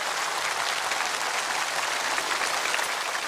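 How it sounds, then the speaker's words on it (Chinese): Studio audience at a CCTV variety gala applauding, a dense sustained clapping from many hands at even loudness throughout. "感谢您热情的掌声啊"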